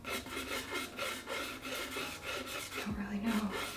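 Homemade chalk rubbed across a drawing surface gives a steady, faint dry scraping in rhythmic strokes, close by, with a brief soft voice-like sound near the end.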